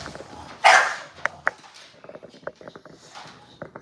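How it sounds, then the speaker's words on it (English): An American bully dog lets out a sharp, loud bark, followed by a few smaller yips and clicks. Quieter intermittent noises and soft voices continue after it in a close indoor space. "You don't need to be barking at nobody."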